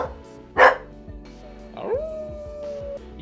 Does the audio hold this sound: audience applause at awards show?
no